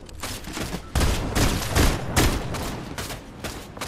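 Rapid bursts of gunfire from the video game Fortnite, a dense volley of loud shots running almost nonstop through the clip, with no talking.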